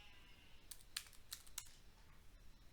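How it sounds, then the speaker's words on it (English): Someone typing a short word on a computer keyboard, a handful of light, separate key clicks spread over a few seconds, faint and close in a quiet room. "So I'll have to type it,"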